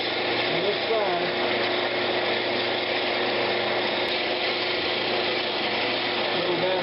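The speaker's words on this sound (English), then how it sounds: "Going to start kind of sanding this on this side." A wood lathe hums steadily while a Brazilian cherry lidded box is sanded on it, giving a continuous close whir and hiss with no pauses.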